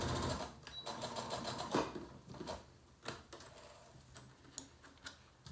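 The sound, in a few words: sewing machine top stitching fabric layers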